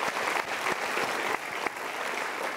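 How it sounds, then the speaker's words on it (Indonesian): Studio audience applause at a motivational talk show, a dense, steady wash of many hands clapping that fills the whole stretch at moderate loudness, with no voices over it. "Kita berikan tepuk tangan."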